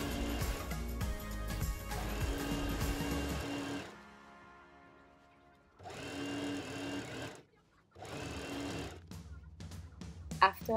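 A sewing machine stitches fabric pieces of a T-shirt blanket together, running loud and steady in three bursts separated by short pauses.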